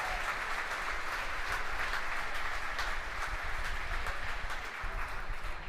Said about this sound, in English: You hear the applause from the team gathered around Mission Control Center here in Hawthorne.